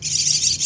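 Young jalak kebo starling calling just after leaving its cage for the first time, a short continuous high chirring squawk, close and fairly loud with no voices.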